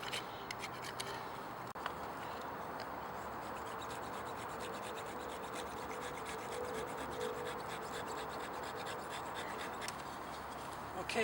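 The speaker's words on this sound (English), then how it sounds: "This is a nice little tool, this on these Swiss Army knives. The saw. I sometimes use it for carving." Small Swiss Army knife saw carving wood: quiet, close, continuous scraping and rasping strokes in a steady rhythm.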